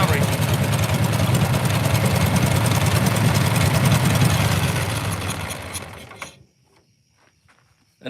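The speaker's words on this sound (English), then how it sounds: "And the motor's running great." An old barn-found Dearborn baler's motor, once without compression, runs loud and close with a steady mechanical clatter and whir, then cuts off abruptly near the end, leaving faint ticks and near silence.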